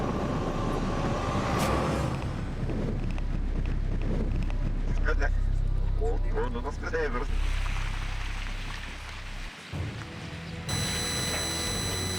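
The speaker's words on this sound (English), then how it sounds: "we are treated to harsh icy gusts of wind" Strong, icy wind roars and buffets the microphone continuously over a Hurtigruten mailboat at sea off winter Norway, with a voice speaking through the gusts.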